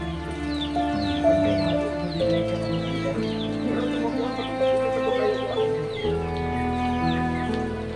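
Pet chickens being fed, several birds clucking and chattering close by in a continuous busy stream of short calls over a steady low background hum, with no voices.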